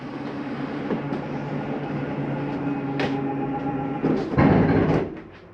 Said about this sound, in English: It's just the slide mechanism telling itself we're all the way in